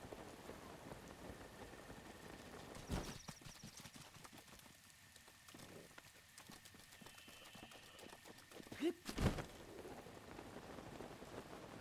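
Steady rain falls across the landscape in The Legend of Zelda: Breath of the Wild, hissing continuously on surfaces. Horse hooves clip-clop along beneath the rain, and a few louder knocks break in partway through.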